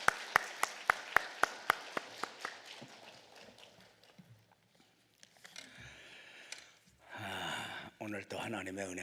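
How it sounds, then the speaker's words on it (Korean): Church congregation clapping to welcome the pastor to the pulpit, a brisk run of sharp claps that thins and fades out, followed by quiet rustling and then music rising. "하나님 감사와 찬송 영광 박수 올리시기 바랍니다"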